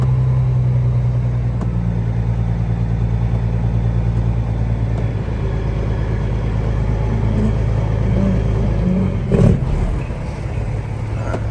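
A truck hauling a trailer in Alaska rumbles steadily at low pitch while swinging wide around a corner, the engine drone loud and constant with a brief clunk near the end.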